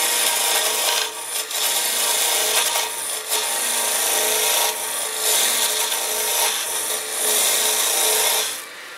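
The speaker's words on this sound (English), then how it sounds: "I just rotate the tool over a bit more and just take a finer slice" Crown Revolution Super Ring cutter shaving wood on a lathe, a loud continuous rasping hiss that rises and dips in rhythm as the cut is taken, then cuts off near the end.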